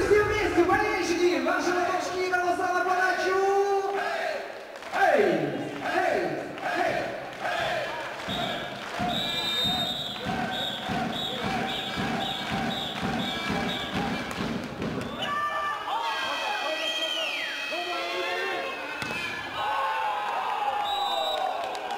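Volleyball fans in an indoor arena at a Russian Superleague match between Belogorye Belgorod and Kuzbass Kemerovo, crowd cheering and chanting together with thumping beats and whoops, while an announcer's voice sounds over the noise.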